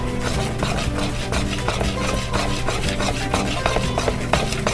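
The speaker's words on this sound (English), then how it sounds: "Make sure all the ingredients are mixed well and they turn to really liquidy" Swedish pancake batter being mixed in a bowl, a steady rubbing, scraping stir with repeated soft strokes, close and continuous with no talking.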